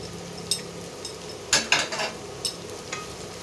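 Chicken with onion and green chilli is stirred in a pan. A few close scrapes and clinks sound over a soft, steady sizzle.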